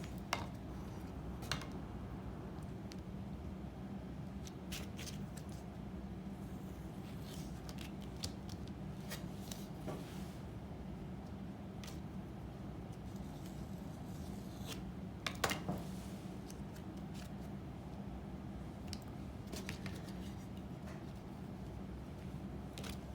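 Clay being trimmed at the edges with a tool or scissors, giving repeated soft snipping and rubbing sounds over a steady low hum, close and fairly quiet, with occasional sharper clicks and no talking.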